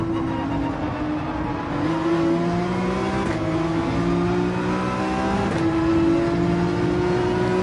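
Race car at Interlagos in the Gran Turismo 7 video game, its engine revving up steadily through the gears with rising whine and brief dips at shifts, close and continuous, with no voices.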